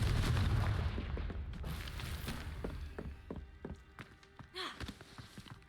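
A low, rumbling fire-spell blast from the Confringo curse in the Hogwarts Legacy video game opens loud and diffuse, then fades into a quieter stretch of scattered thuds and crackles.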